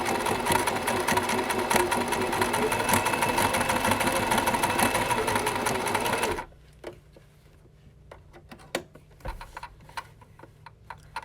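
A sewing machine runs steadily, stitching around a garment armhole, loud and continuous for about six seconds before stopping abruptly, followed by quiet room noise with a few scattered clicks and taps.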